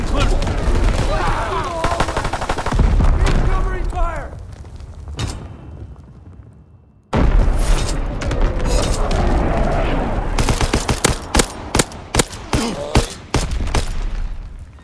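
An artillery barrage and gunfire in Call of Duty: WWII, with dense bursts of automatic fire, rapid gunshots and heavy booming impacts coming loud and close. Battlefield voices speak throughout.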